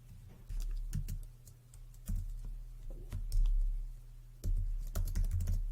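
Keys tapped on a computer keyboard in bursts of quick clicks, close and fairly quiet, as search keywords are typed in short runs with pauses between.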